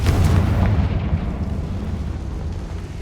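The Confringo fire-blast spell in the video game Hogwarts Legacy sets off a loud, dense explosive rumble with heavy low-end boom that fills the whole moment and fades slowly, with no talking.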